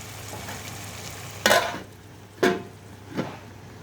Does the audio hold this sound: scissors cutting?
no